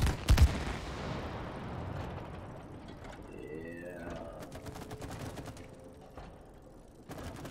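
Gunfire in the video game It Takes Two opens with a loud close shot. Mechanical clicks, whirring game effects and a burst of rapid ticking follow.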